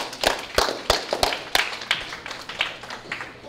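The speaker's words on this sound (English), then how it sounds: "give our volunteers a round of applause" Sparse, evenly spaced claps come from a small audience cheering volunteers at a robot-building demonstration, with about a dozen distinct hand claps that fade slightly toward the end.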